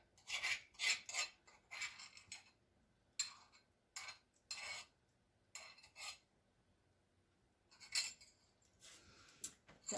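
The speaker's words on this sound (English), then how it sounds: "I'll show it to you once I get it scraped out here on my plate" A spoon scrapes cooked grits out of a pot onto a plate in a kitchen with a small wood-burning stove, making repeated short raspy scrapes with brief clinks, close and fairly quiet, with no talking.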